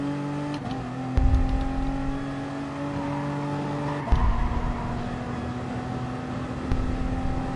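Race car engine in the video game Gran Turismo Sport droning steadily at speed as it heads into the pits, with two sharp downshift blips and the pitch settling lower, loud and close.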